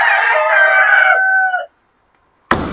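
A rooster crows loudly and close by on a snowy farm with hens and chickens, one long drawn-out call that cuts off into silence before a sharp burst of clucking or flapping begins.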